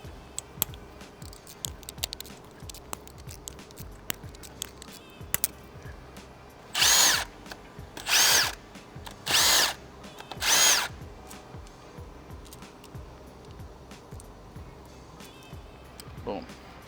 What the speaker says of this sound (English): Take an 8mm socket, crack all these cam caps loose.